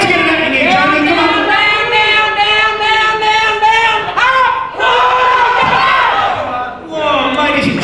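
A crowd at a 2002 powerlifting nationals cheers and shouts loudly for a lifter, rising and falling in roaring bursts with voices calling out over the noise.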